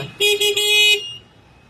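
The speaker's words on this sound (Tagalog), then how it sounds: "Ito po yung ating busina." An electric four-wheel e-bike horn sounds three quick toots in a row, the last held slightly longer, close and loud, over a low idling hum.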